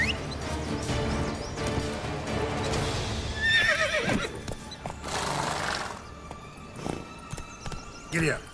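A horse in The Witcher 3 neighs and whinnies over clip-clopping hooves, with a game voice speaking over parts of it.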